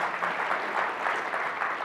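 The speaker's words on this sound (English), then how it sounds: "if you could give them a round of applause" Steady applause from a large audience at a summit, a dense even wash of clapping heard from a distance with no breaks.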